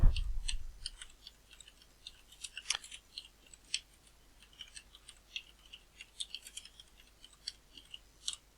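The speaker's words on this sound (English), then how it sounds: "we just need to type in" Typing on a computer keyboard: quiet, irregular clicks and taps in short bursts, fairly close and faint.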